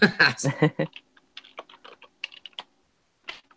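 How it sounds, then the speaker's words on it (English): Rapid computer keyboard typing in bursts of clicks, fairly close, following a short stretch of speech at the start. "I can hear all of us typing."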